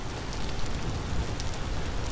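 Rain pours steadily in the video game Vintage Story, a dense, even hiss of drops on surfaces that stays loud and unbroken throughout, with no voices over it.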